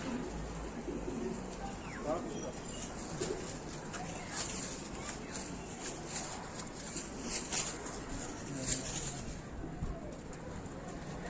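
Pigeons returning en masse coo and call amid open-air ambience, with soft wingbeat-like flutters and scattered bird sounds; voices talk intermittently throughout at moderate distance.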